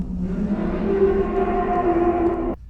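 Bloop deep-sea underwater recording: a drawn-out, siren-like low tonal moan with layered harmonics that rise and waver, steady and alone, ending in a sudden cutoff.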